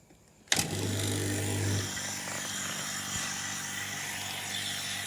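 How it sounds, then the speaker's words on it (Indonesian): Vacuum pump switched on for servicing a two-door Panasonic refrigerator, starting abruptly with a burst and then settling into a steady, loud motor hum with a low droning tone that holds alone to the end. "Oke, kita hidupkan vakumnya."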